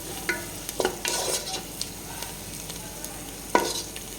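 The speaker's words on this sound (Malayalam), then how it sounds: "ഇത് നന്നായിട്ടൊന്ന് ഇളക്കുക." Chicken masala with coriander leaves being stirred in a pot, soft sizzling broken by several scraping, clattering stirs of a spoon against the metal, close and alone.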